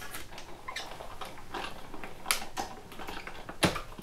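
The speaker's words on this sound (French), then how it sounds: "Donc on va couper l'étiquette" A paper label is cut off with a tool, giving a run of quiet, crisp clicks and snips at an uneven rhythm, close up and fairly faint.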